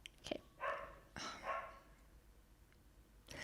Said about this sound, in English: she can hear the dogs barking in the podcast